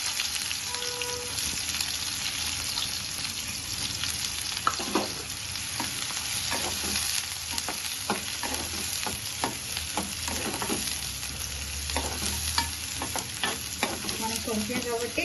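Onions and green chillies sizzle steadily in hot oil for a fish curry, with a spoon or ladle scraping and stirring through the pan in irregular knocks over a constant frying hiss.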